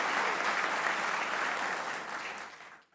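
Steady applause from a crowd at an India versus Pakistan T20 World Cup discussion, a dense burst of clapping that keeps its level for about two seconds before fading out.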